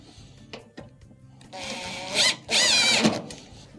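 A screw being driven back into an LG dryer during a motor pulley assembly repair, heard as two loud bursts of whirring power-driver noise with a squealing edge, following quieter clicks and handling sounds.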